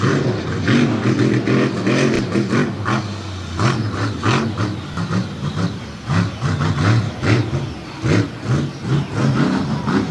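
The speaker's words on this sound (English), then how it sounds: "Christian Norman taking the lead in the Lucas Oil Bigfoot, and out comes the 2018 champ, Mikey Vaters." Monster truck engine revving in the Lucas Oil Bigfoot during a freestyle event, a loud, continuous throaty roar with pulsing throttle surges over steady crowd and arena noise.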